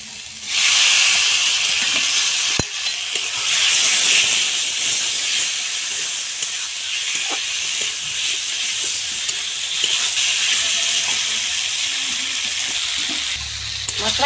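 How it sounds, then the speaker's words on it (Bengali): Vegetables sautéing with spices and chilli powder in a pan for a village-style Bengali katla fish curry, giving a loud, steady hiss and sizzle with a few sharp clinks of a utensil throughout. "এখন আমি সবজি কটা একটু কষিয়ে নিই"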